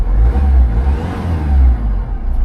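A diesel manual car at auction fires up and idles, a loud close low engine rumble with a slight rev swell, no voices.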